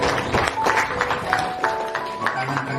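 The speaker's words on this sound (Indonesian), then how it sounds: "Mari kita berikan tepuk tangan." An audience at a school literacy program opening in Banda Aceh claps in a dense, continuous patter, mixed with crowd murmur and a few tonal voices or sounds in the background.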